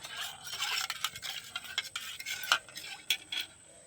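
A spoon stirs salt into water in a bowl, with quick, light scraping and clinking strokes close by, fairly quiet and without any talk.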